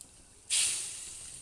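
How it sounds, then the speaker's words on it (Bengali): Fish pieces drop into a pot of simmering fish curry with potatoes and pointed gourd, setting off one sudden loud hiss that slowly fades. "এবার মাছগুলোকে এক এক করে ঝোলের মধ্যে ছেড়ে দেবো।"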